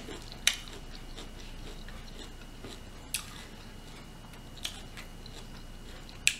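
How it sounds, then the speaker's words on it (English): Firecracker shrimp, tangy, spicy and a little fibrous, being chewed close to the mic, heard as faint moist chewing under a low hiss with a few sharp crunchy clicks spread apart. "so you gotta take your time to chew it"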